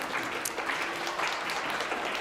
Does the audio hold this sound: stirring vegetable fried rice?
no